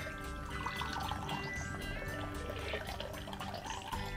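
Black Manhattan cocktail strained and poured into a serving glass, a soft steady trickle of liquid with faint clinks, quiet and close, no talking.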